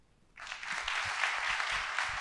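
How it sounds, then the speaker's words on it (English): Applause from a crowd at a school district back-to-school address starts abruptly and continues steadily, a dense wash of clapping that sounds moderately distant with no voices over it. "Let's hear one more round of applause"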